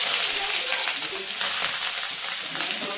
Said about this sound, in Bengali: প্রথমে পেঁয়াজ কুচি দিয়ে দিলাম। পেঁয়াজটা একটুখানি ভাজা হবে যাবে।